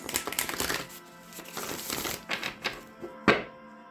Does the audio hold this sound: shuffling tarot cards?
yes